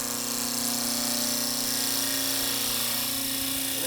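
A bowl gouge cuts wood on a spinning lathe, giving a steady, continuous whirring hum with a constant tone throughout and no voices.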